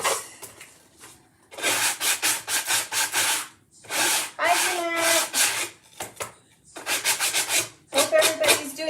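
Rhythmic strokes of sandpaper rubbing the edges of a wooden spring farmhouse door hanger, close and loud in several bursts of rapid back-and-forth scraping separated by short pauses.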